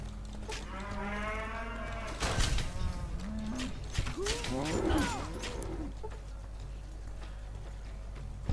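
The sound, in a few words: cow mooing in video game Fallout: New Vegas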